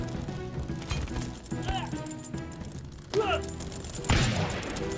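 Gunfire in the video game Totally Accurate Battle Simulator, a pirate battle: a few sharp shots and crackling bursts spread across the clip, the loudest near the end, with other game noises around them.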